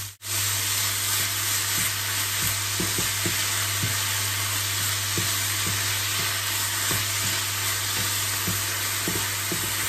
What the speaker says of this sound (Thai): แล้วก็ผัดให้เข้ากันแบบนี้แล้วก็พยายามทำให้หมูสับเขาเป็นชิ้นเล็กๆ